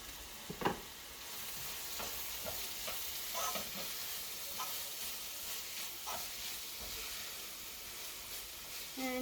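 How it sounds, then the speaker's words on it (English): Coconut achar fries in hot oil with a steady sizzle and hiss, while a utensil scrapes and stirs through it in several distinct strokes, close by and without talk. "Okay, now I am going to add this coconut achar into the oil"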